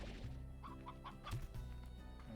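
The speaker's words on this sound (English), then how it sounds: "And they have a rooster." A video game rooster clucks in a few short, evenly spaced bursts with one sharper squawk, set against a continuous low game soundtrack with no talking.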